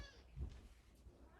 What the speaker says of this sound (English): Why is he meowing?